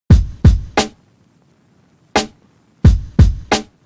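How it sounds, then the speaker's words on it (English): Punchy kick drum hits in a boom bap beat: three quick thumps, a pause, a single hit, then three more, clean and close. "Sounds like a real kick and it's not clashing anymore"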